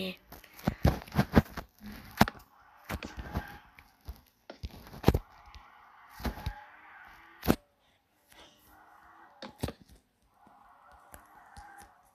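A chicken clucks in short, scattered bursts close by, mixed in with people talking throughout.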